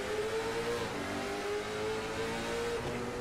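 A short-track race car engine at the Myrtle Beach 300 drones steadily at high revs, heard onboard the 21 car, with a brief dip as the shift hangs between gears before pulling on again.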